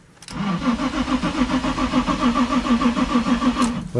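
A Nissan 350Z engine cranks over with a rapid, rhythmic whirring starter pulse lasting about three seconds, loud and close, without catching, then stops.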